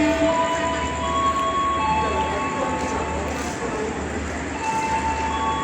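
A CC 201 diesel locomotive hauling a passenger train at Lempuyangan station in Yogyakarta gives a steady, loud engine drone and rolling rumble, with sustained horn-like tones over the steady noise.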